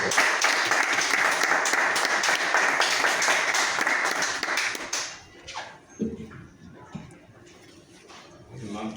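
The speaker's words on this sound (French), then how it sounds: "Je vous demande de l'applaudir." Audience at a festival applauds in a dense, loud burst for about five seconds, then the clapping drops away and a voice speaks over scattered sounds.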